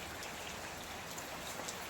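Rain falls steadily in the Konkan jungle, a dense, even hiss of drops on foliage and surfaces that stays close and constant throughout, with no voices.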